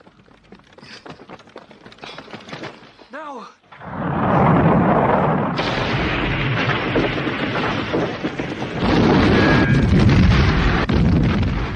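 War-film battle noise from World War II fighting around burning ammunition depots: dense, loud rumbling blasts and crackling gunfire roll on continuously, swelling in waves after an opening stretch of quieter rattling.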